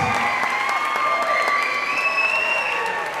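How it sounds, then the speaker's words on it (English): Wedding guests applaud and cheer for the groom and his mother, steady clapping mixed with whoops and crowd noise over a sustained musical tone, loud and close. "Ladies and gentlemen, let's give Justin and his mother a round of applause."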